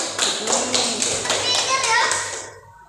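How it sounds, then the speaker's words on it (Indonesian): Schoolchildren in a classroom clap together in a steady rhythmic pattern of loud, close claps, with children's voices chattering over them before the sound cuts off abruptly. "tepuk tangan nak untuk kita semua nak"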